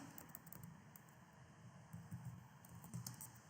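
Quiet typing on a computer keyboard, a faint run of light clicks over a low background hum.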